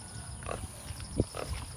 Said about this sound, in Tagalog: Ang laki ng baboy oh.